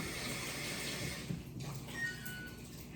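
Tap water runs steadily into a kitchen sink as hands are washed, a continuous broadband splashing that stays fairly even throughout with a brief dip partway.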